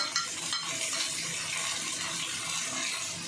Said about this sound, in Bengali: এবার মা বাকি সবজিগুলো দিয়ে দিচ্ছে। পেঁয়াজ, মটরশুঁটি, কাঁচা লঙ্কা